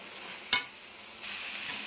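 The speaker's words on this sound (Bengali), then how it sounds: "নুন হলুদ একটু গুঁড়ো লঙ্কা সব দিয়ে এখন বেশ খানিকক্ষণ মশলাটা কষাবো।" Spice paste of salt, turmeric and chili powder frying in a pan: a steady soft sizzle with one sharp scrape of stirring, and the sizzle grows a little louder toward the end. No one speaks.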